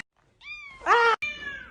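A domestic cat indoors at home lets out a drawn-out meow that rises into a louder, strained cry, then continues after a brief break, close and clear.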